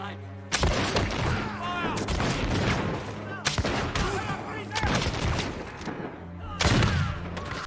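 Musket volleys crack and rattle in a battle ambush from a film set during the American Revolutionary War, with rapid overlapping shots and bursts of shouting voices throughout.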